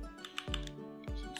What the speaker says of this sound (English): You're going to open a new tab and you're going to type in turzx.com.